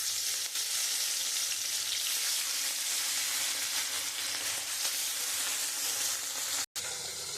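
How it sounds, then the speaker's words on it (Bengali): Fish frying in hot oil in a wok for a Bengali katla kalia, a loud continuous sizzle and crackle that holds steady, with a brief cutout near the end. "আমি কড়াইয়ের মধ্যে তেল দিয়ে দিয়েছি। আমি এখন মাছটা দিয়ে দেবো।"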